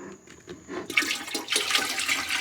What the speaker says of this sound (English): Now I'm gonna pour it back in there.